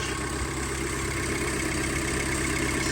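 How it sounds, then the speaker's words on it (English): A 1978 Honda Civic CVCC station wagon engine idles smoothly and steadily, a low continuous hum with no other sounds. "engine runs like a Swiss watch"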